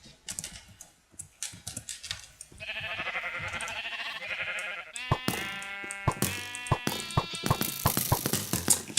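Sheep bleat in a Minecraft-style game while more of them spawn, a wavering bleat in the middle followed by a dense overlapping chorus of bleats mixed with clicky game noises.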